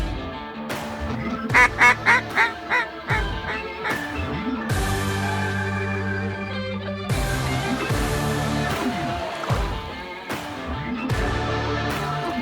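A large flock of snow geese calls during a waterfowl hunt in Arkansas: a dense, loud, continuous chorus of overlapping honks and nasal yelps that swells and thins with no pauses.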